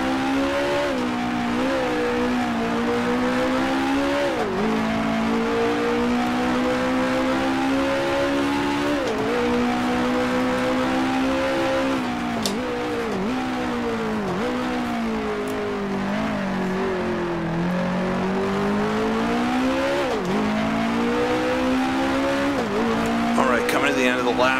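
A Brabham BT11 race car with a 2.5 liter Coventry Climax engine drones steadily in the Grand Prix Legends racing game at the 1966 South African Grand Prix, its pitch climbing and dropping sharply at each gear change, loud and continuous with talk underneath.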